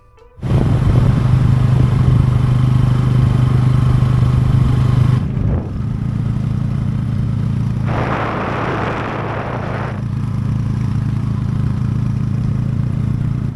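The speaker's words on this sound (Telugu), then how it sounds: "ఒక బైక్ వచ్చిందన్నమాట అన్న లిఫ్ట్ ఇచ్చాడు" A motorcycle engine runs loud and close with a steady rumble, then shifts to a lower, rougher drone with a brief rattling burst.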